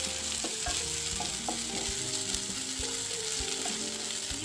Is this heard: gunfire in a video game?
no